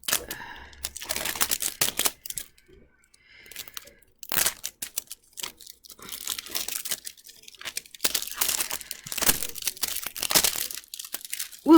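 Crinkly plastic tearing and crumpling as a Zuru miniatures blind packet is ripped open along its serrated edge, coming in bursts of close, sharp rips with short pauses between them.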